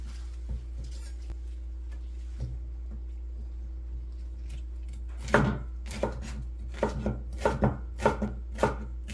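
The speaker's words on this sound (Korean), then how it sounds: "노란 파프리카도 반쪽만 채 썰을 거예요" A knife chops bell pepper halves into strips on a cutting board for cucumber pickles: faint sparse taps at first, then a run of loud, close, irregular chopping strokes against a steady low hum.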